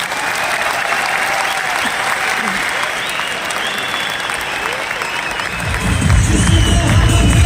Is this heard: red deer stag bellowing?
no